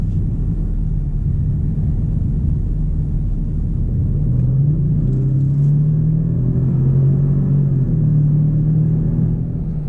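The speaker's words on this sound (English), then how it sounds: "We're getting onto the highway right here so we can get a little bit of an acceleration." A 2019 Ford F-150 Limited with the 3.5-liter engine accelerates onto a highway, heard from inside the cab as a steady loud rumble with a rising engine drone through most of the ten seconds and no talk.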